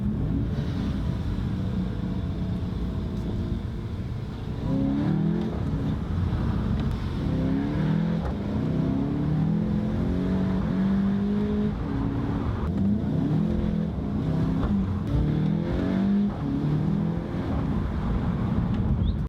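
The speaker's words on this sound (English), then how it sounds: "show you a few bangs with the stock exhaust, a few burps and farts" A VW Golf with its stock exhaust revs repeatedly, the engine note rising and falling in pulses against steady low rumble and wind noise. Any exhaust pops are faint and hard to pick out.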